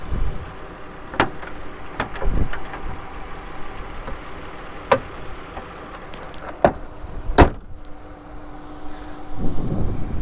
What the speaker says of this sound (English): Has a very smooth, steady idle.